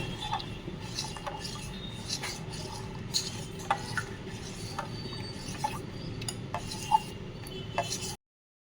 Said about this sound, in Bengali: এটাকে ভালো করে মিশিয়ে নেব